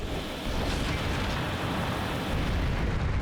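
Cannon fire and explosions in the video game Armored Core 2: Another Age, a continuous loud roaring blast texture with dense booming noise throughout.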